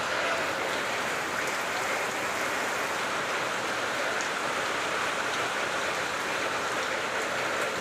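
Steady rain falls in a dense, even hiss with no let-up, during a downpour that has flooded a shop with water.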